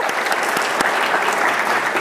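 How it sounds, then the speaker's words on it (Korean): Loud, dense audience applause at an LG corporate talk event, continuous clapping from a large crowd filling the whole stretch with even intensity. "우리 첫 번째 문을 열어준 전정은 책임님께 그 뜨거운 환호의 박수 한 번 더 보내드릴까요?"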